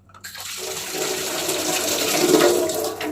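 Water runs from a tap in a strong continuous gush that starts abruptly and flows loudly and evenly for a few seconds.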